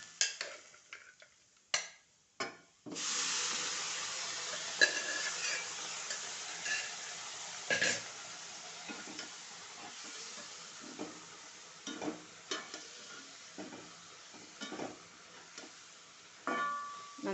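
Jackfruit being stirred in a pan for a masala chicken curry, with scraping stir strokes and soft sizzling through most of the stretch, a few sharper knocks of the utensil against the pan, and no talking.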